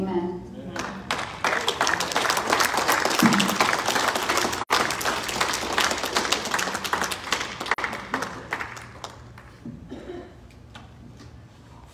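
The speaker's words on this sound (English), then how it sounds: "Let's give Wendy another round of applause here." An audience at a church gathering applauds after a personal testimony, with steady dense clapping that swells and then gradually thins out, and voices mixed in over the clapping.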